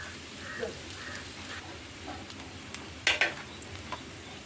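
Grated coconut roasting in a pan for a Kerala onion curry, a soft steady dry hiss with occasional scraping stirs and one louder clink of a utensil against the pan.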